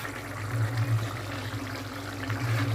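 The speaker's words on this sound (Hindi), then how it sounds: "इसमें थोड़ा सा पानी डालकर इसको पकने देंगे" Water pours steadily into a pan of cooking potato keema, a continuous close trickle over a low hum, with no talking.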